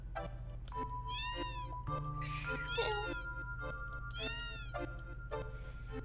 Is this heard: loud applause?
no